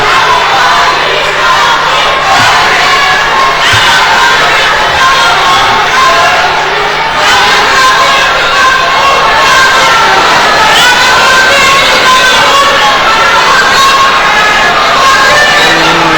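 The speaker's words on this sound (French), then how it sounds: "comme vous l'entendez, la salle crie, Sopi, Sopi." A large crowd fills a hall with continuous loud chanting of "Sopi" at a peace prize ceremony, a dense roar of voices that holds steady and close throughout.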